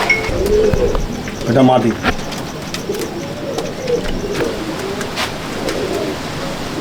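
Madrasi pigeons coo softly in a crowded loft, with low, repeated cooing throughout. Someone speaks briefly nearby, and a louder flutter or scuffle comes early on.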